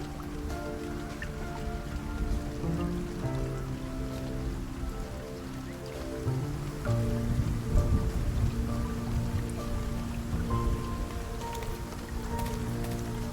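Steady rain pours at night in the video game World of Goo 2, a dense, even hiss of drops that runs the whole time with low musical tones beneath it.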